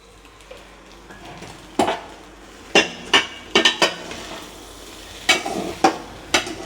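Rice tossed with masala in a pan for fried rice, a metal spoon scraping and clattering against the pan in a series of sharp, close knocks and scrapes over a faint background.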